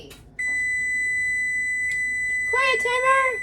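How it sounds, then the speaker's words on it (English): Kitchen timer during a cooking class making English muffin pizzas: a single steady high electronic tone sounds loud and continuous, with a voice talking over its end. "Quiet, timer!"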